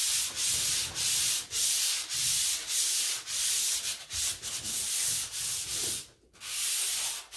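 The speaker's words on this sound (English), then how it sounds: "I can wrap the corner and sand this, and then come over to my side." A 220 grit sanding sponge rubs back and forth around a corner in quick rhythmic strokes, a close, loud, steady scratching with brief pauses and no talk.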